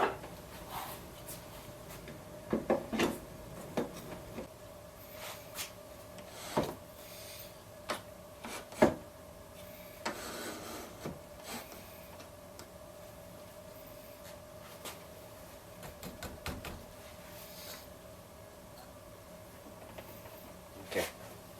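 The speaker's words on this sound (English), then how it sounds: "I'm going to clamp this feather board to the table here." A feather board being clamped to a table saw table: scattered clicks, knocks and short scraping sounds at uneven intervals, with a faint steady hum underneath.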